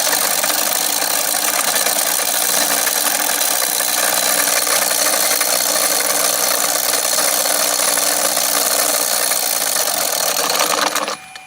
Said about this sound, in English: Now we have those 16 magnets counter-spinning at about 20 hertz